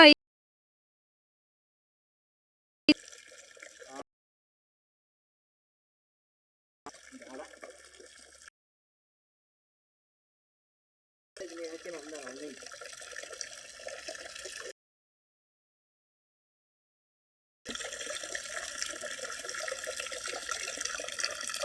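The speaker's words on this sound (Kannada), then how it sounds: "ನೀರು ಆಫ್ ಮಾಡ ಬಕೆಟಿಕ್ಕು ತುಂಬಾಯ್ತು" Tap water gushes into a bucket for a children's bath in four separate bursts, each a steady rushing pour that grows longer and louder toward the end, with quiet gaps between them.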